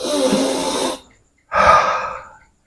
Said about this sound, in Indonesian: Napas yang kita terima, enggak ada 1 menit langsung kita keluarkan.